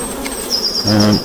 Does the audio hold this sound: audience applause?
no